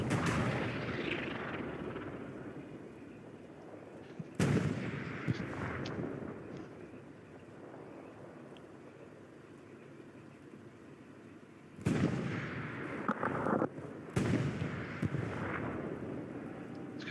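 Battlefield gunfire in Hell Let Loose, a steady low rumble of distant shooting punctuated by several sharp, loud cracks of nearby shots spaced across the stretch.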